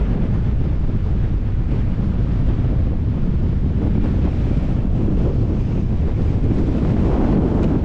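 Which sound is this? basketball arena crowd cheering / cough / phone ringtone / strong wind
strong wind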